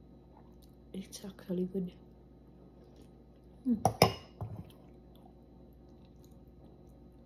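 Eating Samyang kimchi noodles in soup, with soft, close slurps and chewing in two short bursts separated by quiet. A voice speaks softly in between.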